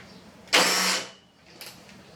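Wrigley three-wheeled truck engine cranking with the choke on, a single loud half-second burst of grinding turnover that fades, followed by a faint brief second attempt.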